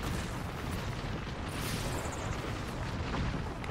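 Bangalore's ultimate artillery strike in Apex Legends, a dense continuous barrage of rumbling explosions filling the soundscape at moderate distance, steady and unbroken.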